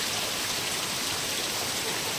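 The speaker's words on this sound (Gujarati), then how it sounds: "घणो वरसाद आज सवार में चालू थई गयो है।" Heavy rain pours down in a steady, dense hiss that never lets up, with no voices.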